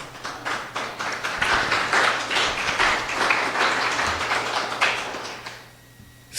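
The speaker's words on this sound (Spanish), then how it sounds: "Dale un aplauso al Señor." Congregation applause fills a church service, a dense wash of many hands clapping steadily and fairly loud for about five seconds before thinning out and stopping.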